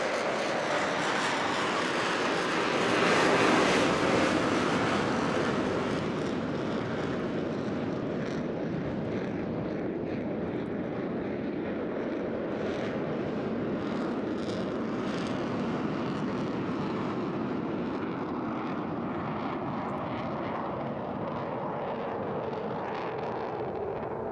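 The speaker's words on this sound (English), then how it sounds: "Very shortly now, he's going to push the throttles. There we go. Back into full reheat." Jet engines thunder in full afterburner over the Eastbourne International Airshow in 2024, a loud, continuous roar that peaks early and then holds steady at a distance for the whole span.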